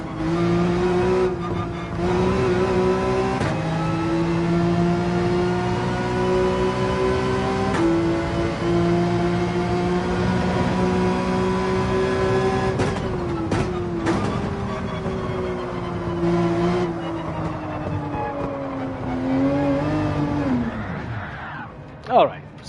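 Race car engines in Gran Turismo 7 on the Dragon Trail circuit whine and rev steadily, with pitch climbing and dropping through gear shifts. A voice talks over the engines throughout, and a sharp burst comes at the end.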